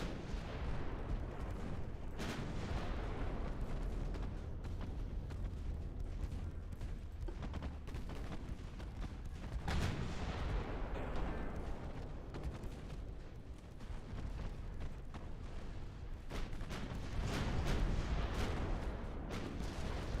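Eleven-inch battleship guns firing in the naval game Ultimate Admiral Dreadnought, a dense, continuous barrage of deep booms and shell blasts rolling on throughout, with louder heavy salvos standing out now and then.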